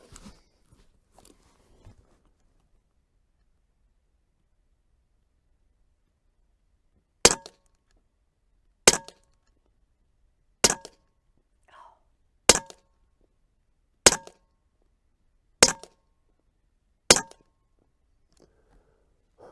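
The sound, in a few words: Huben .25 caliber air rifle shots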